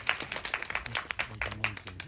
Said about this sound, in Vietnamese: Một tràng pháo tay dành cho nghệ sĩ Trịnh Kim Chi